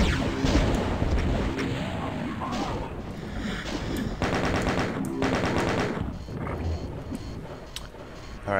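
Rapid weapon fire in the video game Doom 2, with loud repeated blasts and explosions layered continuously, closely stacked and intense throughout.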